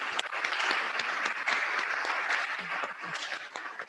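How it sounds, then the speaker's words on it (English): An audience at a memorial lecture applauds a distinguished speaker. The clapping is full and continuous and holds at an even level for the whole stretch, with no voices over it. "A round of applause, please,"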